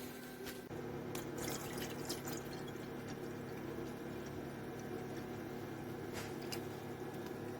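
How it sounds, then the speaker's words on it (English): Water poured into a glass jar of corn syrup mixture for making colloidal gold, a steady trickling and splashing that runs continuously at close range with a few brief drips at the start. "There it is, water added."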